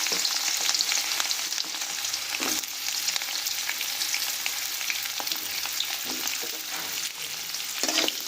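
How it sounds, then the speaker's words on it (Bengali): Thinly sliced potatoes frying in oil with black cumin seeds and chilli, a steady loud sizzle with occasional scraping stirs and spatula knocks throughout. "অল্প আলুটাকে খুব ভালো করে আমরা ভাজা করে নিচ্ছি"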